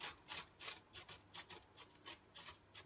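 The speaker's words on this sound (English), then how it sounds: "Ginger is a really awkward thing to grate." Fresh ginger root is grated by hand in a kitchen, giving a quiet, close run of rhythmic rasping strokes, about a dozen back-and-forth scrapes with no voice.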